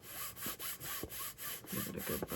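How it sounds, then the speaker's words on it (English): A folded cardboard box edge is burnished by hand: quiet, rhythmic rubbing strokes repeat steadily, close and soft, with no talk. "Give it a good burnish."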